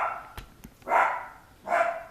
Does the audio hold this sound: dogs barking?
yes